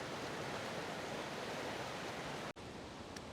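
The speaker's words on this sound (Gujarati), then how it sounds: "તો બહુ બધું પાણી આવ્યું છે નદીમાં. તમે જોઈ રહ્યા છો કેટલું પાણી જાય છે." Steady, dense rush of the monsoon-swollen Ambika River in Dang, loud and continuous, with a brief sharp drop-out near the end before the rushing resumes.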